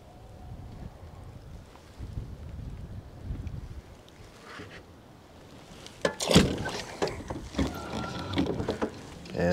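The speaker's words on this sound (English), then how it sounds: "this wind can push me out in the middle in no time flat if I'm not careful" Wind gusts over open water while fishing from a kayak, a low rumbling buffet that starts soft, then grows louder and rougher in the second half with bursts of microphone wind noise.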